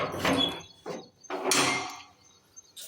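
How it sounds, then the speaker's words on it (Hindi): A house door being opened, heard as several close scraping and sliding bursts followed by a softer knock and creak, with no talk in between. "ये मैंने दरवाज़ा खोला है अपने घर का"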